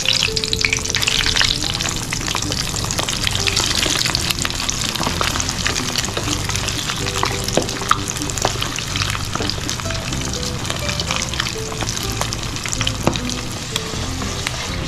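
Chicharon bulaklak, crispy pork, sizzles loudly in hot oil during its second fry, a dense steady crackle with stirring clatter running throughout, no voices.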